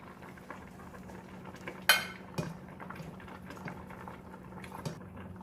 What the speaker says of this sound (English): he's gonna cover it up and let it boil